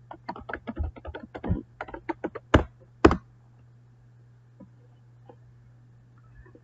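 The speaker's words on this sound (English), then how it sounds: "You're going to type in your username," A username and password go in on a computer keyboard, with a close, quick run of key taps followed by a few sharper strikes before the typing stops, over a faint steady hum.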